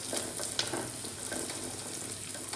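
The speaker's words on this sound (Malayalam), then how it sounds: "കറിവേപ്പില ഇടയാം. മാറ്റി കൊടുക്കാം." Curry leaves dropped into hot oil for an injipuli recipe give a soft, close, steady sizzle and crackle with a few brief pops, fairly quiet and with no talking.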